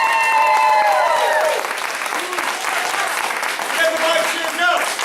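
Family and friends at a martial arts belt ceremony in Mount Dora, Florida clap steadily and loudly, with a few whoops and shouts mixed into the sustained applause.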